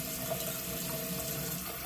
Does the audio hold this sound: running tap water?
yes